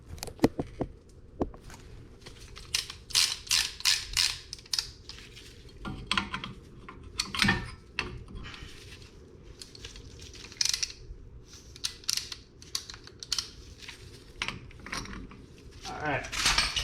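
A tool compressing the front brake caliper piston on a 2015 Kia Rio, a run of close metallic clicks and ratcheting rattles in irregular bursts with brief pauses, no voices.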